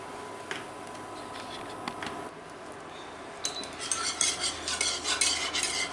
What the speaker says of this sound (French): Et donc on remue tout le temps jusqu'à temps que les bonbons fondent.